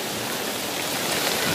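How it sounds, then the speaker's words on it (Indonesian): Heavy rain pouring down during a flood, a dense, continuous hiss of downpour with no breaks, steady and fairly loud. "dan hujan sampai saat ini masih terus mengguyur"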